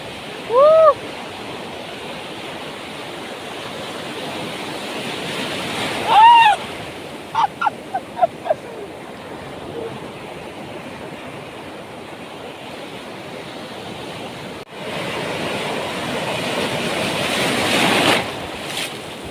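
Ocean waves break and wash on a swimming beach, a steady rushing surf with wind buffeting the microphone, swelling louder toward the end, while a few brief voices call out over it.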